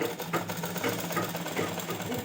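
A sewing machine runs steadily, stitching a folded belt strip onto a ghaghra with a continuous close mechanical whir and no talk.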